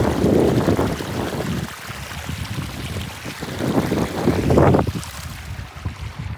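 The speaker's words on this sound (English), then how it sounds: "And the sound of the wind, or just silence, complete silence." Wind gusts buffet the microphone on a walk outdoors in nature, a loud, rumbling roar that swells and eases in waves with no talk.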